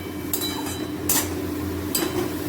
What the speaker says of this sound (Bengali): এবার একটু নাড়াচাড়া করব